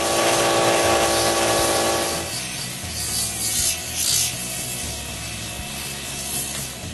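Pneumatic sanding drums working the interior and exterior of handmade wooden spoons, a loud continuous rubbing whir with a harsh buzzing drone that eases after a couple of seconds into steadier scraping.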